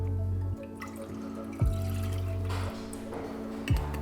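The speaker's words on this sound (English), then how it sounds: "So I'm gonna pour the milk into a saucepan" Milk poured into a saucepan for Brazilian cheese bread, giving a steady liquid pour with a low resonant tone that drops in pitch a few times, close and alone.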